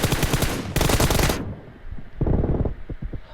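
Rapid bursts of automatic gunfire from a video game, two loud dense volleys followed by a pause and a quieter scattered string of shots, close and unaccompanied by talk.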